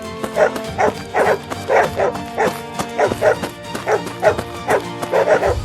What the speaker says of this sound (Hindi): कुछ जंगली कुत्ते आर्यन के पीछे पड़ जाते हैं।